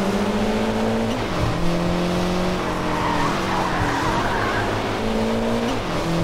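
A race car in the Sega Rally video game drives hard with a loud, steady engine drone. Repeated tire squeals and skids break in as it slides through turns, with no voices.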